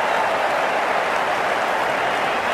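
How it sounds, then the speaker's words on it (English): Crowd applause at a cricket match in the video game Cricket 19, a steady, dense wash of clapping from many hands, continuous and even across the whole stretch with no voices. "The crowd on their feet."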